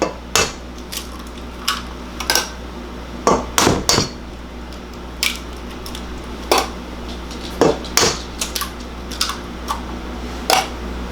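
Three eggs are added to chocolate cake batter in a mixing bowl, bringing a string of sharp, irregular clinks and taps against the bowl, close and fairly crisp, with short quiet gaps between them.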